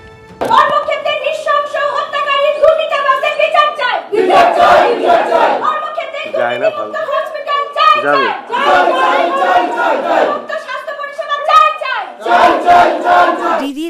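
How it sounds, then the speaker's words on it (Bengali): Club members chant slogans together at a protest demanding a corruption-free health system, loud rhythmic group shouting in repeated bursts with short pauses. "দুর্নীতিমুক্ত স্বাস্থ্য ব্যবস্থা চেয়ে স্লোগান দিলেন ক্লাবের সদস্যরা"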